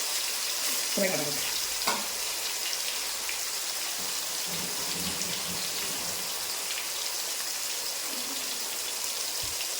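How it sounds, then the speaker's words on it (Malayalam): Tuna pieces shallow-frying in oil over medium heat for a toddy-shop style kappa biryani, a steady dense sizzle throughout with a few brief clatters near the start. "നമ്മളെ മീഡിയം പരുവത്തിലിട്ടാണ് ഇത് പൊരിക്കുന്നത്"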